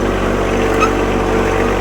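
Small mini tractor engine droning steadily up close as it creeps between pine trees on forest land, a continuous low rumble with no speech over it.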